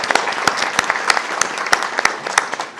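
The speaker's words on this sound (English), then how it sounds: "I would like to close our celebration today with a round of applause for Centennial Committee." Audience applause for the Centennial Committee at a nursing school centennial celebration: a short, close round of crisp hand claps from a modest crowd, with a few sharp individual claps standing out before it trails off.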